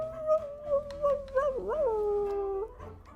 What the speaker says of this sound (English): Oliver howled as hard as he could.